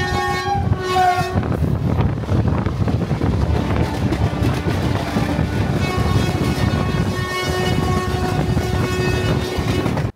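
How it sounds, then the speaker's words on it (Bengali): Express train no. 02837 runs at about 100 km/h on the line from Santragachi toward Kharagpur and Puri. A steady, loud rumble of the moving carriages is broken by long horn blasts at the start and again partway through. "ট্রেন ততক্ষণে রওনা দিয়েছে সাঁতরাগাছি থেকে খড়গপুরের"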